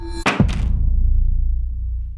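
A vivo V70 phone dropped onto its back glass lands with two quick, close thunks in rapid succession, followed by a low, fading rumble with no talk.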